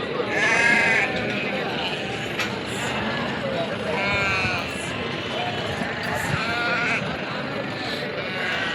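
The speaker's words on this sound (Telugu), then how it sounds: "అవి ఎర్ర గొర్రెలు అంటారు" A flock of red sheep bleating repeatedly, several overlapping calls near and far, with a person talking over them throughout and distant vehicle noise behind.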